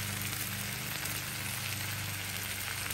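Shrimp fried rice with green peas fries on high heat, giving a loud, dense, steady sizzle close by with no voices.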